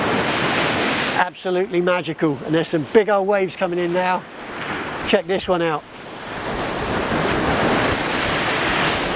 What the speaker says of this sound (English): there's some big old waves coming in now